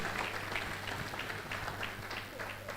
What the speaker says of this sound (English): A round of applause for Prof, sir.